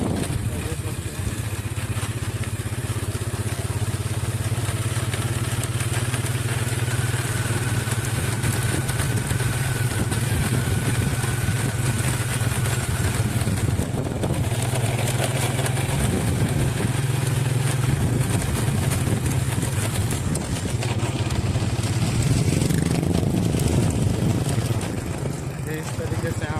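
A motorcycle engine drones steadily throughout a ride, a loud continuous low hum with wind and road noise, while someone talks over it.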